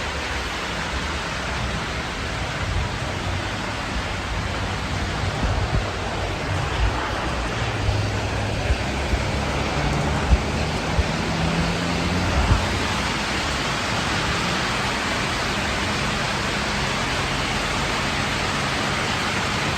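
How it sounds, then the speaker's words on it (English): Steady, dense hiss of heavy rain pouring down, broadband and continuous throughout with no voices. "Oh, it's raining hard."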